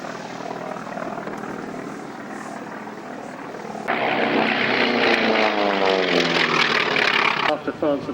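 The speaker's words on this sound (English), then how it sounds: "The Wildcat is being flown today by the Proudfoot." A Grumman Wildcat propeller fighter flying at an air show, its engine drone swelling sharply louder midway as it passes close overhead, while a commentator talks over the sound throughout.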